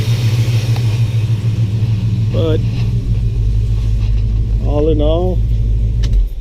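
The 1973 Plymouth Satellite's engine idles after starting, a low steady rumble running throughout while someone talks over it.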